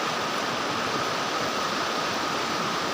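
Steady, loud roar of river water rushing from opened dam gates at the Sina Kolegaon dam, filling the whole clip, a dense continuous wash with no pauses or voices.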